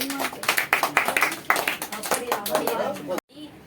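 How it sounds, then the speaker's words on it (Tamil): A village church congregation claps along, quick rhythmic hand claps under a voice speaking, ending abruptly before a short quieter tail. "கைத்தட்டுங்க எல்லாரும்"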